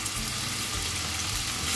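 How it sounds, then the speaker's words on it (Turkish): Steady sizzling of onions frying in hot oil, a continuous crackling hiss with no talking. "Soğanlarımızı bir 5 dakika kavuralım."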